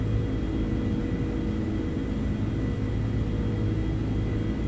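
Engines of an Airbus A330-200 in Microsoft Flight Simulator 2024 during the climb, a steady low rumble and whir that stays even throughout, with no voices.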